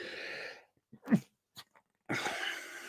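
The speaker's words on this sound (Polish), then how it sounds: "Ale musiałem kichnąć." A single close sneeze from a man on a livestream bursts out between stretches of his talking, preceded by a quick breath and followed by a short pause.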